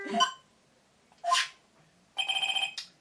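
A cell phone ringing in the Phoenix Wright: Ace Attorney – Justice for All video game, a few short electronic chirps followed by a rapid trilling ring burst, clear and alone with no voices.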